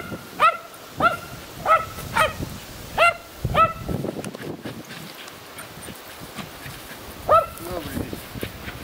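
A small dog barks in a string of sharp, evenly spaced yaps, goes quiet for a few seconds, then gives one more bark nearby.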